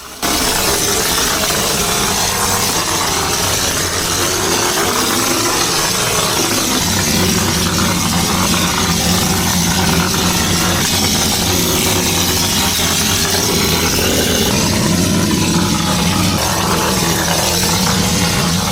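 A cement spraying machine's engine runs continuously and loudly while basement walls are parged, a dense steady mechanical roar with a rise in low rumble after the first few seconds, no talk over it.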